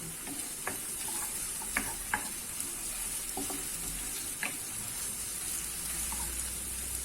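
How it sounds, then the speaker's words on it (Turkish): Onions and a clove of garlic fry in a pan, giving a steady soft sizzle with occasional light clicks and scrapes from stirring, close up and without speech. "Soğanım kavrulurken içerisine bir diş de sarımsak ekliyorum"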